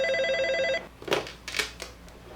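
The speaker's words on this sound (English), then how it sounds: "Sophie is on the phone with Jonas." A telephone rings with a steady, tonal electronic trill that cuts off abruptly, followed by a few nearby clicks and handling knocks as the receiver is picked up.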